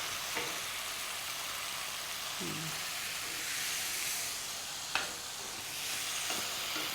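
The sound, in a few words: stirring chicken pie filling with tomato puree in a pan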